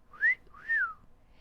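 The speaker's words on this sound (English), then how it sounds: "Holmes whistled." A man whistles two rising-and-falling notes, each a short sliding tone, clear and close with silence between them.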